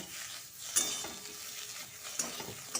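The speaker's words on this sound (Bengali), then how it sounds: "যতক্ষণ না জলটা শুকুচ্ছে ততক্ষণ এরমভাবে নাড়াচাড়া করে নেব" A chickpea-greens mash is stirred in a pan as its water cooks off, a quiet steady sizzle broken by a few scraping strokes and light spoon knocks against the metal.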